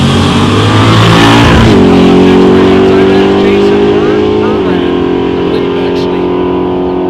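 Drag racing car making a pass at Great Lakes Dragaway during Sick Summer 2023, a loud, close engine roaring hard and climbing through gear changes before fading, with an announcer talking over it.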